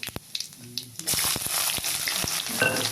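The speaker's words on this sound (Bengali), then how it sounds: "এবার আরেকটা কড়াইতে তেল গরম করে নিচ্ছি, এর মধ্যে দিয়ে দেবো এবারে জিরে তেজপাতা ফোড়নে দেবো" Cumin seeds and bay leaf tossed into hot oil in a kadai burst into a loud, crackling sizzle after a few quiet taps and clinks, the frying hiss continuing steadily.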